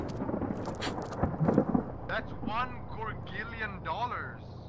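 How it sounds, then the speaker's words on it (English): A lightning strike in Arma 3 lands as a rumbling thunder crash with rain noise, fading away while excited voices talk over it. "Oh, we got lightning strike."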